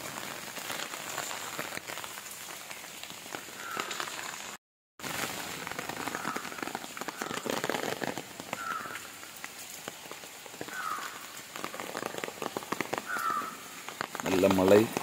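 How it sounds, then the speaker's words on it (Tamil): Heavy rain patters steadily on surfaces outdoors near a grove, a dense continuous hiss with scattered drop hits, briefly cut out midway, while people talk quietly beneath it. "நல்ல மழை,"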